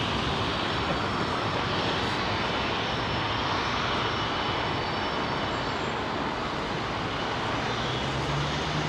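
A Middle East Airlines airliner in the old MEA livery comes in to land at London Heathrow, its jet engines giving a loud, steady roar that fills the whole stretch without letting up.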